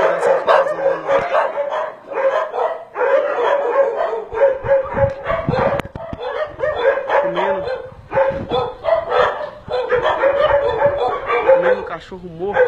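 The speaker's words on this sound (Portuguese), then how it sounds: "com muitos cachorros" Several starving dogs bark and yip repeatedly and fairly close at an abandoned house in Contagem, Brazil, with busy overlapping barking throughout and people talking over it.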